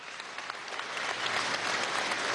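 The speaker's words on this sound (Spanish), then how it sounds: "Vamos a darle un aplauso ahí de Josefina" An audience at a public event in Bolívar applauds: dense, steady clapping from many hands that swells slightly and holds, heard from a middle distance without talk.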